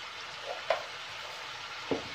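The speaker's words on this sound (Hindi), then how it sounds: "आप इन तमाम चीज़ों को मिक्स करेंगे और पका लेंगे थोड़ी देर सब्जियों को" Vegetables cooking in a pan with soy sauce, crushed red chilli, black pepper and cumin for chicken and vegetable rolls, a steady soft sizzle with two brief scraping stirs.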